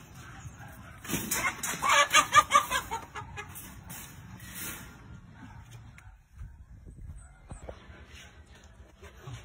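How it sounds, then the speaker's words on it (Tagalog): Chickens cluck and fuss while being fed outdoors, a brief busy burst of bird calls near the start that then fades into quieter rustling and background noise. "Pakainin mo daw yung manok ni Amon."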